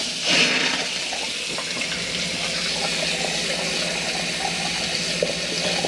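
Hot water runs steadily from the sink tap in an Elddis Encore 275 motorhome, a continuous close splashing rush with a brief surge at the start.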